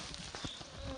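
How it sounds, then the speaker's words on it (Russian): Bees flying over a tall-grass meadow, a faint continuous buzzing hum with soft wing drone passing close, heard alone outdoors. "пчелки летают."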